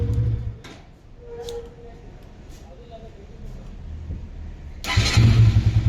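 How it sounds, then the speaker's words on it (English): A Bajaj Pulsar RS200 motorcycle engine, just fitted with a new starter relay, cranks and catches near the end, rising into a loud, close idle with a steady low thrum after quieter ticking and faint background sounds. "The bike got started."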